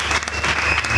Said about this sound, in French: Acclamez d'abord pour les femmes.